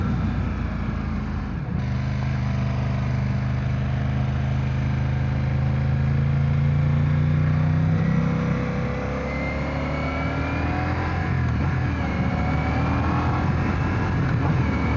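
A 2025 Ducati xDiavel engine under way, a low steady drone with rising and falling pitch as the rider speeds up and eases off, mixed with wind rush.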